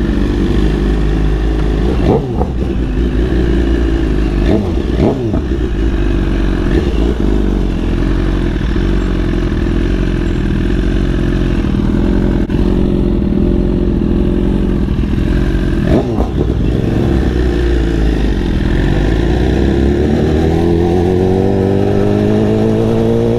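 Several motorcycles ride together as a group on a Brooklyn street, engines droning loudly and continuously with revs rising and falling as the bikes pass close by.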